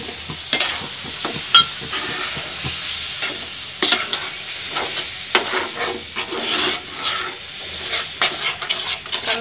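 A spoon stirs powdered sugar and half a bowl of milk in a pan over a low gas flame, giving repeated scraping strokes and a soft, steady sizzle, close and alone.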